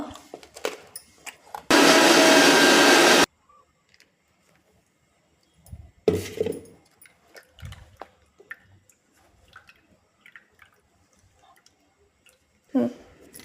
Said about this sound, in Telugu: ఇదంతా మిక్సీ పెట్టేశానండి